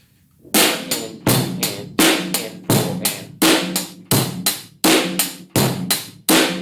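A drum kit plays an evenly spaced beat of about a dozen loud hits in quick pairs, bass drum and snare trading places, each strike ringing out briefly, close and alone.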